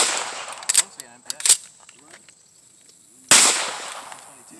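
A Sig Sauer MPX 9mm carbine fires in sharp, loud bursts at an outdoor range, with a short cluster of shots and then a louder blast after a pause. A few faint voices sit between the shots.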